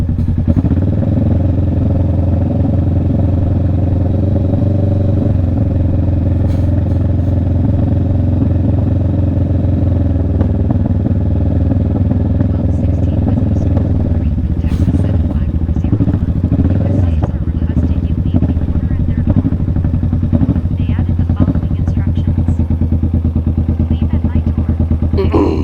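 Motorcycle engine running loud and steady at close range for the whole stretch, a constant low throbbing drone with some clattering and brief thumps, and a rider talking over it.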